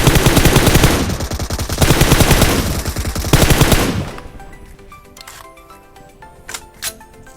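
Automatic gunfire in the mobile game PUBG Mobile, loud rapid bursts for about four seconds, then stopping and leaving faint scattered in-game sounds and a few distant shots.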